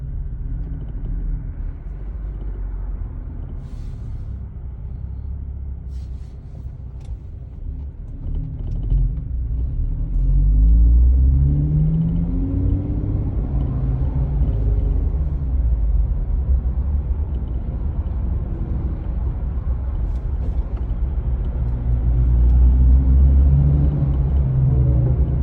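A Jeep Wrangler JK running with no muffler, its engine and open exhaust a deep continuous rumble that swells louder partway through as it drives, with no talking.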